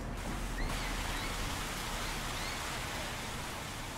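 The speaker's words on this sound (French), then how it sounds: "une grosse pluie de moussons s'abat sur leur baraque mal protégée et insalubre" Heavy monsoon rain pounds a poorly protected shack on the outskirts of Phnom Penh, a dense, steady hiss of falling water that runs loud and unbroken throughout.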